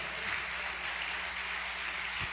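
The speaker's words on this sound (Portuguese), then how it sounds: "Vamos aplaudir ao Senhor." A church congregation applauds together in worship, a steady, even roar of many hands clapping at a fairly distant, moderate level with no voices on top.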